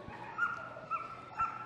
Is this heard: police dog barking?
yes